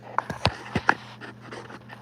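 A toy pillow pet dog gives a few quick, soft panting bursts, close and fairly quiet, spaced irregularly over about two seconds with a faint steady hum beneath.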